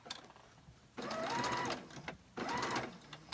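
Sewing machine stitching curtain fabric in two bursts of fast, buzzing needle runs, each about a second long, separated by a quiet pause, close and fairly soft with no voices.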